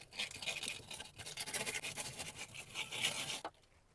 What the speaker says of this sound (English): Just going to use a little bit of sandpaper to remove any sharp edges.